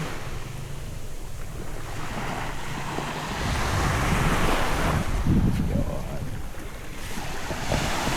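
Ocean surf washes onto the shore at Palauig, Zambales at sunset, a steady broadband wash with wind buffeting the microphone, swelling louder midway as a wave breaks nearby.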